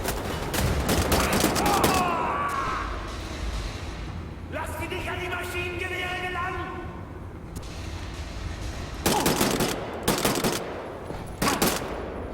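Weapon fire in the video game Wolfenstein: The New Order: loud bursts of rapid automatic gunfire at the start and again near the end, with a mechanical whirring tone between volleys.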